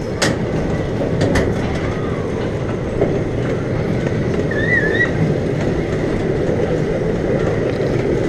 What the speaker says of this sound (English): let's get on this bad boy and ride the train